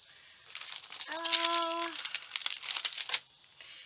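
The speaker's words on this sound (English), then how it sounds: "And I've just got a piece of wax paper." A piece of name-brand wax paper crinkles close by during a scrapbook layout session, a busy run of sharp rustling and crackling, with a brief tonal whine partway through.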